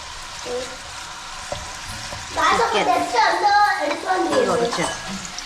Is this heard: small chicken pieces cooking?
yes